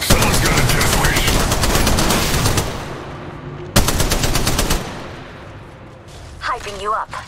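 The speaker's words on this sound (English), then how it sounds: "I'm getting shot" Rapid automatic gunfire in a shooter video game rattles loudly and continuously, pauses, then resumes with another sharp burst before tailing off; a voice speaks briefly near the end.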